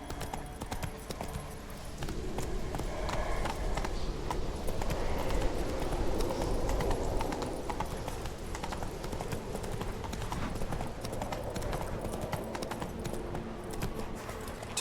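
Hooves of the horse Roach pound steadily at a gallop in The Witcher 3, a dense, continuous clatter running the whole time without a break.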